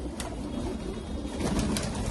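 Rajasthani and Punjabi pigeons coo together at a loft, a soft, continuous chorus of low throaty calls close by with no speech.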